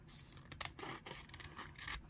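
Scissors cutting through wallpaper, a series of quiet papery snips and scrapes at close range, with no voices.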